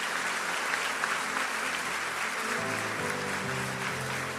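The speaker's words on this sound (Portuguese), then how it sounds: "Aplauda mais forte ao nome do Senhor." A church congregation applauds steadily and loudly throughout, a dense wash of clapping, with a low sustained tone, likely organ or keyboard, entering beneath it partway through.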